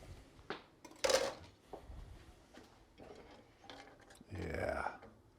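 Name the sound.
spoon in pot checking thickness of blueberry fig chutney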